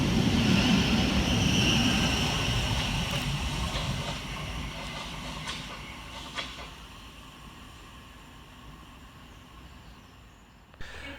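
Two coupled Class 377 Southern units, 377407 and 377414, arrive at Carshalton station on the late-running Horsham to London Victoria service. A loud rumble rolls through the platform and slowly fades as the train slows, with a few faint squeals and clicks.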